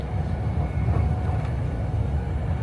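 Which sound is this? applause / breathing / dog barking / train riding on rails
train riding on rails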